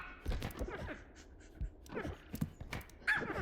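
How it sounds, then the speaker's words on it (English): A dog in the video game REPO barks and yelps in short bursts, fairly close and a little faint, with brief pauses between the sounds. "Is that a dog?"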